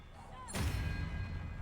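An Expelliarmus spell is cast in a Harry Potter video game, heard as one sudden sharp burst that fades into a low rumbling tail.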